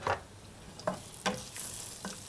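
Two medium onions going into hot mustard oil for a beef dish, giving a soft continuous sizzle with three or four sharp stirring knocks, close but quiet, with no talk.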